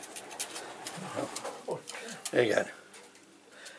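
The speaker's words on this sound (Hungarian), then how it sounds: "megkaptam ajándékba ezt a galambot" Pigeons give soft, low, repeated cooing calls nearby, mixed with quiet shuffling, while people talk quietly over them.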